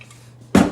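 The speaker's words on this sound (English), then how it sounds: "Put some olive oil in a nice hot pan." Olive oil hits a hot pan with a sudden loud sizzle that bursts in after a near-silent moment and keeps crackling.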